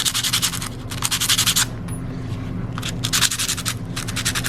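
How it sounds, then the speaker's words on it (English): Sandpaper scrubs brass pen barrels in rapid back-and-forth strokes, loud and close, in bursts separated by brief pauses as the barrels are turned. "we're going to scuff these up using a little sandpaper"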